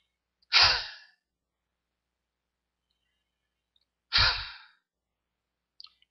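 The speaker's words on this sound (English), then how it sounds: "you take a deep breath and you inhale through the nose and" Two deep breaths, each a single loud breathy exhale pushed out through the mouth, separated by several seconds of silence, close and clear with a faint click at the end.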